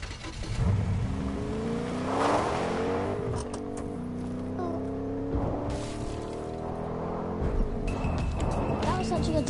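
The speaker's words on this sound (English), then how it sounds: "Oh, there's a faster car." A car drives in a video game, its engine droning and revving through shifting gears for several seconds with crashes and scrapes, with a player's voice over it.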